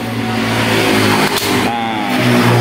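Motorcycle engine with a faulty centrifugal clutch runs loud and steady up close, a brief dip midway before the hum swells again as the clutch grabs the bell and the bike creeps forward.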